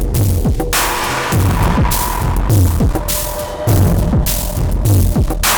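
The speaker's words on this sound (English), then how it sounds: "just a bit more straight up distortion" Thick, steady distorted guitar tone from a Neold BIG AL amp simulator with sag switched off, droning continuously with a faint repeating low pulse, loud and close, no voices.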